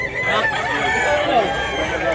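Several roosters crow and overlap at a poultry sale in Mantalungon, Cebu, their calls loud and close over a dense background of clucking birds.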